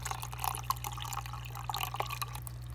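Freshwater aquarium tank water is poured into a small cup, giving soft splashing and dripping over a steady low electrical hum, quiet and close.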